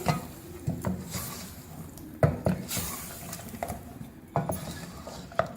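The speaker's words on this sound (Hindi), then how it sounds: "तेज़ आंच पे गोश्त को हम तेज़ आंच पे भून रहे हैं।" Mutton frying in oil over high heat in a cooking pot, with intermittent clanks and scrapes of a spoon stirring against the metal and a low sizzle underneath, moderately close.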